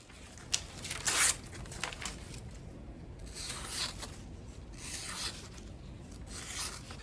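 A knife with an S390 steel blade slices through paper in several dry, scraping swishes, one sharper burst early and then three longer strokes, close and fairly loud with no talking.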